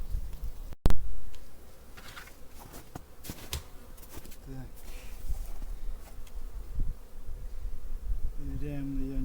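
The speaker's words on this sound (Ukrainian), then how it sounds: "бджоли помаленьку починають вилітати" Bees buzz steadily as they begin flying out of a hive after winter, a constant droning hum with individual insects passing close, plus scattered light knocks and handling noises.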